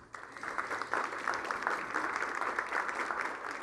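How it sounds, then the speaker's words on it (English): Applause from an audience at a business pitch showcase greets a Zurich Insurance executive, a dense even wash of clapping, moderately distant and steady throughout. "A round of applause for Yilmaz."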